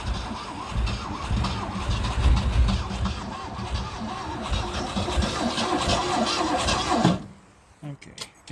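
A 1963 Ford Galaxie convertible, started for the first time in 30 years, catches and runs loud and rough for several seconds before abruptly cutting out, leaving quieter scattered noises.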